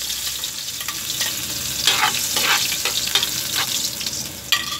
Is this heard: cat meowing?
no